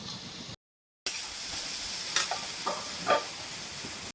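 Potatoes fry in a covered pan for aloo singara, a soft steady sizzle with light stirring clinks, broken by a brief moment of silence near the start.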